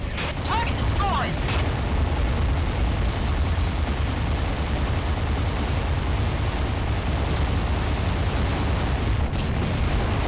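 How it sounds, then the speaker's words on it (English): A missile turret blown apart in the underwater game Aquanox, a sustained loud roar of explosion and rumbling debris mixed with busy mechanical noise and faint voice chatter, steady from start to finish. "Laughing at that missile turret getting destroyed."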